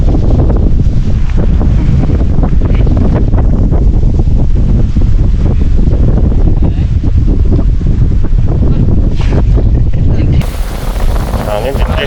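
Loud, strong wind buffeting a microphone outdoors, a roaring rumble that cuts to a brief hiss near the end.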